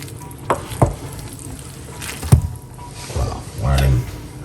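Vegetables sizzling in a pot for a coconut cauliflower soup are stirred with a few scraping clanks and spoon knocks over a low steady frying hiss, close and moderately loud.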